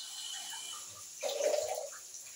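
Water poured into a Moroccan fish tajine of Rabi fish with oil and herbs, a short splashing pour rising after quiet kitchen background and fading within about a second.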